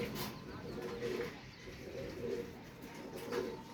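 Two male high-flyer pigeons, brothers from one set, give soft, low coos repeated in a loose rhythm, faint and close by.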